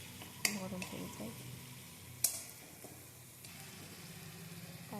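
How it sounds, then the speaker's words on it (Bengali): Tomatoes fry with salt in a pan for a fish curry with eggplant and potato, giving a steady soft sizzle broken by a couple of sharp utensil clinks against the pan; a voice may be faintly present. "আর টমেটোটাও আস্তে আস্তে এইভাবেই ভেজে নেব যতক্ষণ না টমেটোগুলো সেদ্ধ হয়ে যায় পুরোপুরি।"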